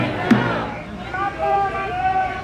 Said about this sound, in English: Here's the crowd.